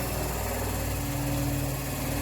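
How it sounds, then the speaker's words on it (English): An electric motor spins steadily on a control lab bench, producing a low, even hum with faint vibration and no voices. "So you are observing motor start rotating, and we are setting the speed"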